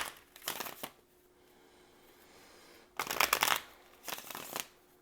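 Three bursts of tarot cards being riffled and shuffled, close and crisp, separated by short quiet pauses.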